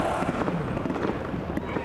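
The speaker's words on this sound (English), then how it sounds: "Fireworks." Fireworks burst at an IndyCar victory-lane celebration at the 2011 Iowa race, a dense, continuous crackle and popping of loud blasts layered with crowd and voice noise.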